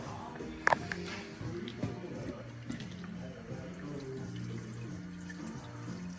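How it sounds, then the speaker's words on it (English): Fuel trickles from the fuel line of a Yamaha XT 600 under restoration, a faint, steady liquid flow. A brief sharper clatter comes near the start. "Make sure it's flowing out of the fuel line."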